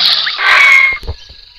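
Dinosaur creature calls from a mobile dinosaur simulator game: a loud, drawn-out roaring cry lasting about a second, followed by a few short low thuds and grunts as it fades.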